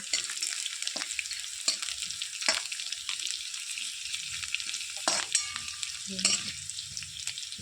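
Onion for kanda poha fries in a pan, a bright steady sizzle with repeated scraping strokes of a spatula stirring it, close and moderately loud.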